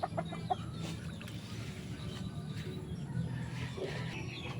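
Backyard gamefowl hens cluck in short, soft bursts close by, with faint scattered bird calls over a low, steady outdoor background.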